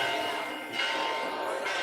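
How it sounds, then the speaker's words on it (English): Church bells ring steadily in the distance, a continuous metallic chiming with faint background murmur. "You hear the church bells?"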